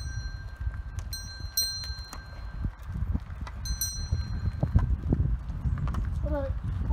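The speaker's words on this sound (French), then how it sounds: "Une deux chevaux tirée par deux bœufs." Two oxen pulling a Citroën 2CV clop along with steady, uneven hoof falls, close and moderately loud, while people talk and a high bell-like chime rings now and then.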